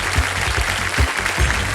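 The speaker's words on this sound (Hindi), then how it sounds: "सबसे पहले आप लोग ताली बजाइए जोरदार" A studio audience on a TV quiz show applauding, loud continuous clapping with a few stronger rhythmic beats, close and filling the room without talk.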